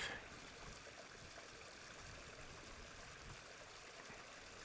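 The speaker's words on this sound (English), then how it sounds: "you've even got a pretty little waterfall" A small waterfall on a hillside by a campsite sends out a faint, steady rush of trickling water with no talking.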